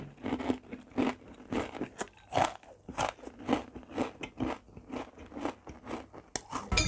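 Someone bites and chews a crunchy tom yum–flavoured cashew and chili snack, close and crisp, with a steady run of sharp crunches about twice a second and no talking.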